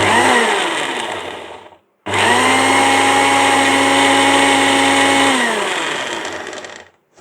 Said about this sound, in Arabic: الخلاط صوته عالي جدا